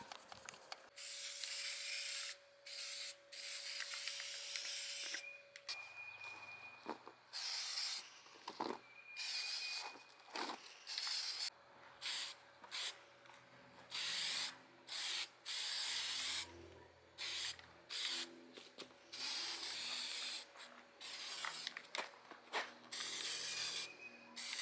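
Paint is sprayed in repeated short hissing bursts as the final coat of Cadence HRT epoxy goes onto a sailboat hull sitting on the hard at a boatyard, close and fairly quiet, with steady gaps between passes.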